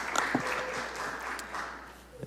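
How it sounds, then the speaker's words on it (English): At a city council meeting, a room applauds softly and at some distance, a steady patter of clapping over about two seconds with a little talk mixed in. "I think that deserves a round of applause"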